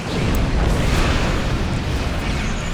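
A torpedo explosion in the Star Trek Online space game: a dense, sustained roaring blast that stays loud and steady for nearly three seconds, with no pause or fade.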